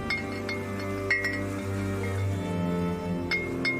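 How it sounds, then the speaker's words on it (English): Glass bottles tapped and chiming against one another give a few light, scattered clinks over a steady low droning hum, quiet and irregular with no voices. "tapping the glass and hearing them chime against each other"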